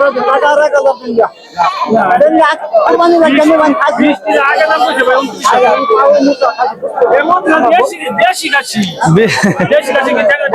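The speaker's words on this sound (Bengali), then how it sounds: "চমৎকার দুইটা ছাগল, অনেক বড় বড় ছাগল।" Large goats bleat repeatedly and loudly up close at a livestock market, mixed with continuous chatter and people talking over them.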